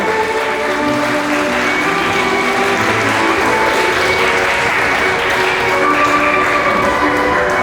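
A crowd applauds steadily and loudly at a wedding ceremony, dense clapping continuing without a break for several seconds.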